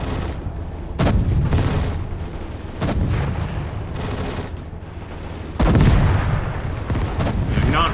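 Heavy booming grenade explosions and rolling gunfire in the WW2 Eastern Front game Gates of Hell: Ostfront, with loud blasts at intervals over continuous battle noise.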